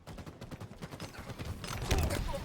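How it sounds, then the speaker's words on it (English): Grenades and gunfire in a competitive video game match, a rapid crackle of shots building into heavier blasts near the end, with a voice underneath. "Nades coming in. That's going to do a lot of damage."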